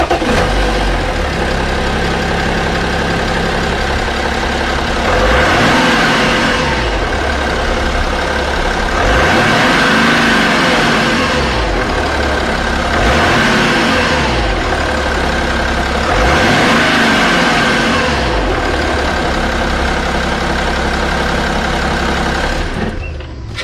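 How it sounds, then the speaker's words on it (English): A BMW 330d's M57 diesel engine idles with a steady low clatter, then revs up several times in a row, each rise and fall of the engine note loud and close. "start the car, give it a little bit of a rev before and after"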